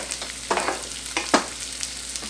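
Onions frying over medium heat in a pan and stirred with a spoon, giving several crisp scraping strokes in an uneven rhythm above a soft, steady sizzle.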